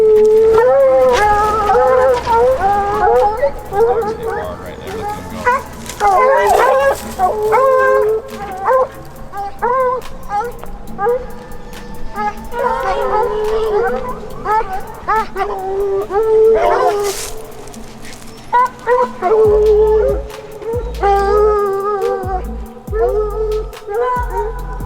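Hunting hounds bay and howl repeatedly while chasing a bear in Utah, loud overlapping barks and yips rising and falling close by, with occasional heavy bumps and rustling near the end.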